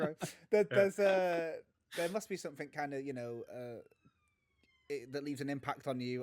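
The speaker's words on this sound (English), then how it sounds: "my microphone's picking up the sirens outside" Police sirens wail faintly outside, their rising and falling tones running underneath a close conversation between several people.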